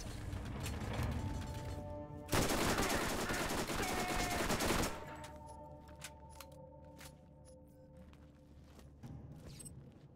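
SMG fire in the video game Borderlands 1: one loud, sustained automatic burst lasting a few seconds, followed by quieter clicks and mechanical weapon noises.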